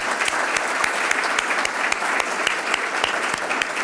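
Audience at an evening panel event on drought in the Texas Hill Country applauding the panelists, a steady wash of many hands clapping at moderate loudness with some distinct nearby claps.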